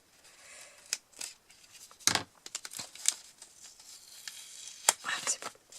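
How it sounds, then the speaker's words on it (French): Scissors snipping open an envelope sealed with washi tape, with several sharp, close cuts at irregular intervals and light paper crinkling between them. "Je vais être obligée de découper."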